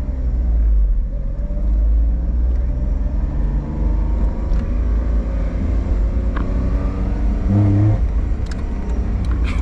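Honda Beat engine pulling away from a start in second gear, a steady loud low rumble close by with a brief rising rev near the end and no talk.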